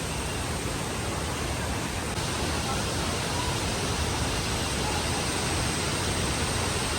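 The Thusharagiri waterfall gives a dense, unbroken roar of falling water, loud and steady from start to finish with no distinct events or voices.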